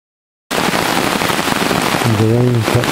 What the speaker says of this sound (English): The rain kept coming down.